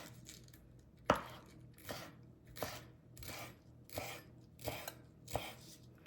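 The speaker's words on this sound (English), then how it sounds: "I'm gonna cut up a little bit of the onion top and put in there for a little color" A knife chops green onion tops on a cutting board in six distinct, evenly spaced chops, each a crisp close thud with a short scraping tail, over a quiet kitchen background.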